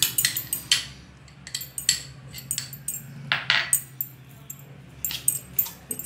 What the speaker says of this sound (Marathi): हे दही आता हे सगळं मिक्स करायचं आपल्याला.